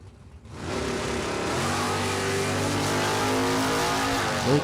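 At a drag race launch, a truck and a red 1967 Chevy Camaro leave the line with a loud, sustained engine roar that builds in pitch as they accelerate away.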